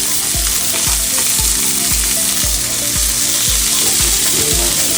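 Peppers and onions fry in a small pan left with leftover seasoning, a loud continuous sizzle broken by regular scraping strokes of a utensil against the pan, close and without talk.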